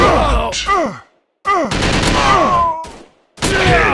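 Sniper rifle shots in a WW2 mobile shooting game, sharp loud reports in separate bursts with brief silences between, mixed with short groaning voice effects.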